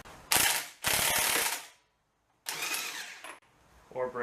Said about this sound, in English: This device here is a gear puller.